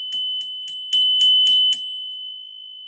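A small bell struck about six times in a steady sequence, each strike leaving a sustained pure ring, alone and fairly clear, rung to open a collective tarot card reading.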